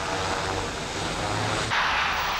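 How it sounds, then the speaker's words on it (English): A military HS 748 twin-engine transport makes a continuous, loud propeller drone as it flies past at an air show, the tone shifting partway through the pass. "this demonstration of the military version of the HS 748 transport, which flew on one engine as well as two."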